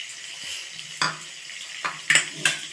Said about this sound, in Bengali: একটু জল দিই।